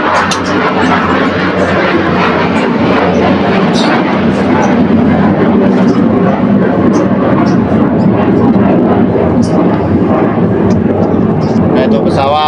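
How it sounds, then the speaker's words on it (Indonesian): An airplane flying overhead outdoors, a loud, broad roar that stays steady for the whole stretch and drowns out everything else. "Nah itu pesawat udah lewat ya"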